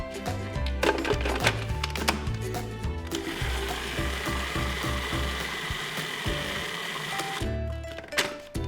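Food processor whirling almonds into thick almond butter, a loud continuous grinding motor hum with shifting pitch and rattling bursts, running steadily before a brief pause near the end.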